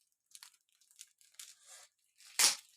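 Football trading card packs being torn open, a series of short crinkly rips building to one loud, sharp tear near the end, close and alone.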